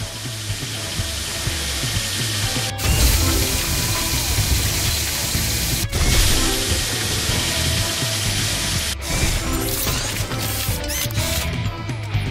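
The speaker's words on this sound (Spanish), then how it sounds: "Esto para colocar el taladro." Power drill in a PAW Patrol movie video game, a steady loud whirring mechanical buzz running throughout with brief dropouts in between, over game music and no talking.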